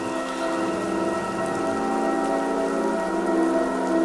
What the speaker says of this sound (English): The rain forced the weapons from their hands